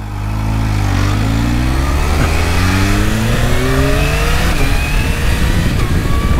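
A Kawasaki H2 motorcycle accelerates hard in third gear, its engine note climbing steadily in pitch through a sustained loud rev, close and continuous with no talking.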